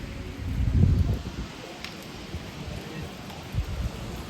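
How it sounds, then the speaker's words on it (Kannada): Gusty wind roars through trees near a hilltop temple, strongest early on and easing into a steady rushing rustle, with buffeting rumble on the microphone. "ಗಾಳಿ ಹೆಂಗೆ ಬೀಸ್ತಾ ಇದೆ ಅಂದರೆ ಮರ ನೋಡಿದ್ರೆ ಗೊತ್ತಾಗುತ್ತೆ ಎಷ್ಟು ಫಾಸ್ಟಾಗಿ ಬೀಸ್ತಾ ಇದೆ ಗಾಳಿ"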